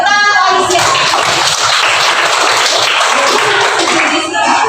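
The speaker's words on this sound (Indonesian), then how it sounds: "Oke, tepuk tangan Alicia." A classroom of students claps for a classmate, with brisk, dense hand claps close by and continuing for a few seconds.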